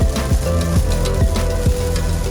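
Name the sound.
torrential downpour of rain while driving on the Autobahn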